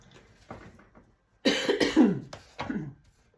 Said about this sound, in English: Do excuse me coughing.